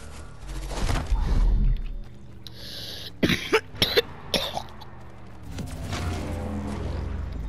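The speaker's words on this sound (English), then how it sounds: "Sorry, my cough sounded weird." A person coughs in a few short, sharp bursts near the middle, between stretches of rumbling action-game sound effects.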